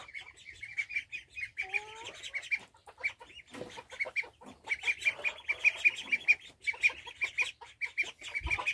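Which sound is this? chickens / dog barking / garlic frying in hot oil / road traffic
chickens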